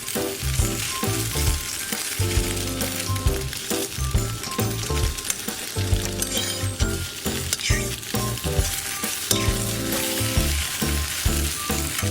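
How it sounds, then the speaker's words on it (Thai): Steady, dense sizzling of an egg frying in hot oil, continuous and fairly loud throughout with no voices. "มื่อน้ำมันเริ่มร้อนนะคะ ก็ใส่ไข่ลงไปทอดค่ะ"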